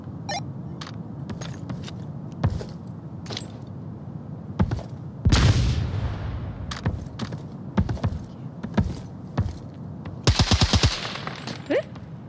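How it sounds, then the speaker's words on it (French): Rapid bursts of gunfire and single shots from the Onward VR video game after a grenade is thrown into a hangar, loud sharp cracks scattered through the clip with a dense rattling burst near the end. "Je vais balancer une grenade au hangar."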